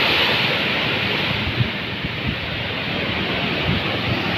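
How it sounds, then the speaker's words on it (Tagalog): Strong surf roars along Bayawan Boulevard's seawall in a dense, continuous wash of noise, with wind buffeting the microphone and no clear breaks between waves. "Lakas ng alon o."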